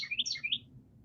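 Birds give a quick burst of several high chirps and tweets in about half a second, faint and outdoors, followed by a quiet low background.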